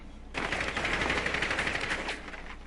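Rapid gunfire in the video game Rainbow Six Siege, fired from a pistol, forms a dense, loud, close burst of shots lasting about two seconds, with no talking.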